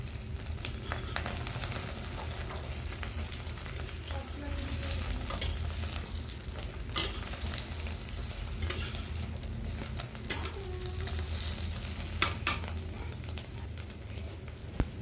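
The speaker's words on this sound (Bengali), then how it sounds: "কড়াইয়ে এবার একটু তেল দিয়ে দেবো। ডিম ছেড়ে দিয়েছি।" An egg omelette fries in oil in a hot wok, giving a steady sizzling hiss throughout with occasional scrapes and clinks of a utensil stirring against the pan.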